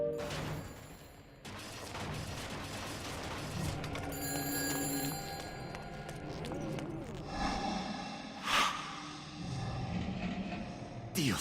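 A telephone rings in the Shadows of the Damned video game, a faint repeated bell under a busy mix of music and game noise.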